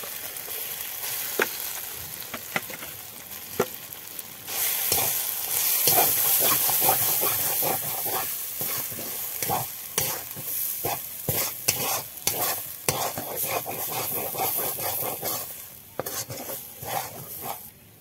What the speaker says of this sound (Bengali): দেখো মশলাটা ভাজা হয়ে গেছে, এখন দিয়ে দেবো আমি কলাইশুঁটির পেস্ট।